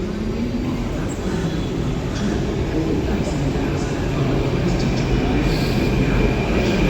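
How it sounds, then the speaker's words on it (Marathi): Mumbai metro train pulling into a station during the Ganpati festival crowds, a loud steady rumble of wheels and motors close by, with faint voices in the crowded platform background. "आणि आता मेट्रो पण आली आपली"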